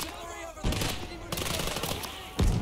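Machine gun fire in the World War II game Gates of Hell, with heavy bursts opening and closing the stretch over a dense, continuous clatter of battlefield gunfire at moderate level.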